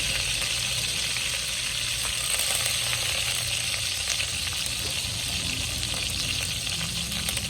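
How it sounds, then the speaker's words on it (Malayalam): Curry leaves and dried red chillies sizzle steadily in hot coconut oil for a prawn and onion theeyal, a dense, continuous frying hiss with no one speaking. "വെളിച്ചെണ്ണ ഒഴിച്ചു ഇനി കറിവേപ്പില ഇട്ട് കൊടുക്കാം വറ്റൽമുളക് ഇട്ടു"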